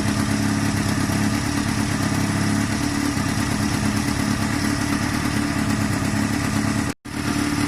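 A Honda CB250 cafe-bobber motorcycle engine runs steadily up close, a loud, continuous rumble with clattering texture and a brief cut near the end.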